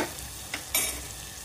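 A spoon stirs tomato and drumstick curry in a pan, giving two brief scraping strokes over a quiet, low background hiss.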